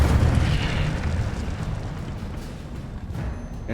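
An Incendio fire spell in the video game Hogwarts Legacy bursts with a loud, rushing roar at the start, then fades into a crackling, fiery hiss that lingers for a few seconds.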